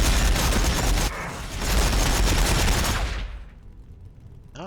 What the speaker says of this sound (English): Warhawker's firing